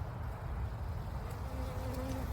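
Honey bees hum steadily around a queen cage during hive work, a continuous close buzz with faint rising tones from individual bees passing near.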